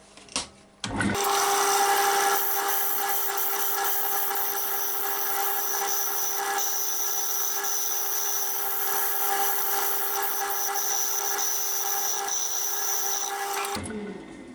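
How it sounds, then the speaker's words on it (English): Wooden bowl spinning on a lathe while a carbide cutter takes light cuts, a steady close whir and hiss with a high tonal whine that runs unbroken for about thirteen seconds before stopping. "All I'm doing here now is using the carbide cutter."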